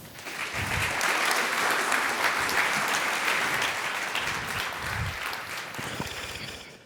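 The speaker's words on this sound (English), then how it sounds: "let's give them a warm round of applause" Sustained audience applause fills a conference hall after the introduction of speakers at a tech-industry talk on AI, a dense, steady wash of many hands clapping that holds for several seconds before tapering slightly.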